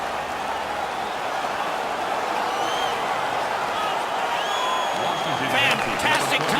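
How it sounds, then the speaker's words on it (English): A hockey arena crowd roars steadily after a fight between players, a dense, continuous cheer throughout with a commentator talking over it. "The crowd is ecstatic."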